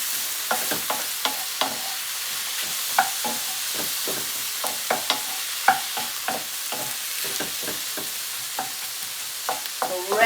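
Stroganoff with smoked paprika stirred in a frying pan: quiet, steady sizzling with frequent scraping and tapping of the spoon against the pan, close and alone with no voices.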